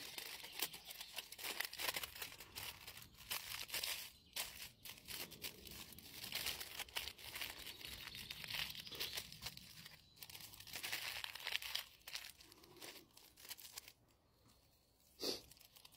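Aluminium foil being folded and pressed into a small flat nugget, with continuous close crinkling and crackling, bursts of sharper crunching, and brief pauses near the end.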